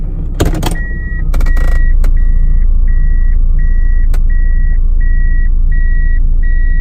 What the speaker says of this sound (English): if you shift into reverse, the car beeps at you